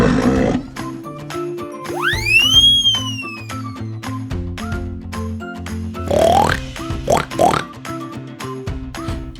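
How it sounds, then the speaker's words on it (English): A toy pig squeals in a rising sweep, then gives a few short oinks, all over cheerful background music with steady beats. "Pig."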